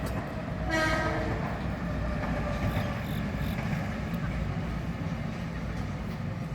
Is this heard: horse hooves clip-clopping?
no